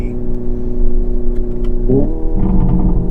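A loud, steady engine-like drone heard from inside a Hyundai Ioniq 5 N electric car, a simulated exhaust sound, rises into a throaty rev partway through, with no voices.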